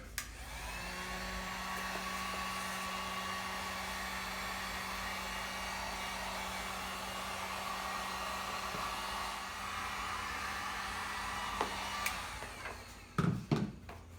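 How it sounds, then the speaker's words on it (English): A hot air tool blows steadily for about twelve seconds to heat and shape EVA foam for costume shin guards, a loud continuous whooshing whine that cuts off abruptly, followed by a few handling clatters. "So I'm gonna go ahead and heat this up here and get a little form to it."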